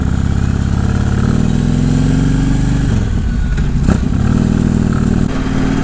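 A motorcycle engine runs loud and close, holding a steady rumble before revving and pulling away as the ride begins, with a brief sharper clunk partway through and no talking.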